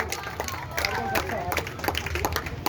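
Enthusiastic applause from a school Independence Day audience at a coaching centre, dense clapping with crowd murmur held steady and fairly loud throughout, with a few voices audible beneath.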